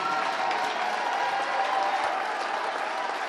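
Sustained applause from a large crowd at a gospel meeting, steady and loud for a few seconds, with a broad wash of clapping and some cheering mixed in.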